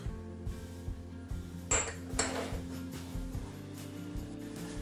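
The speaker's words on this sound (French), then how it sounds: "Je mélange brièvement et j'ajoute ça au reste." Utensil clinks and scrapes against a bowl as flour, fleur de sel and yeast are briefly mixed, with irregular close taps and a couple of brighter knocks over a low background hum.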